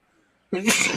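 A single sharp sneeze bursts in after half a second of near silence, loud and close, during a relaxed group conversation.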